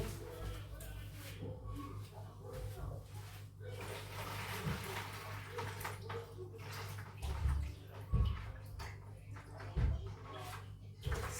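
Cold water runs steadily into a basin or tub for mixing dough, faint and continuous, with a few soft knocks and quiet voices in the background.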